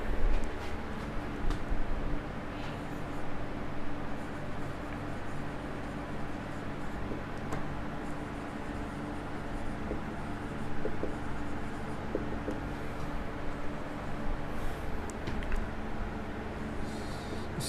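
A pen writes out a chemistry definition on paper, with soft continuous scratching strokes under steady room noise, close and without talk.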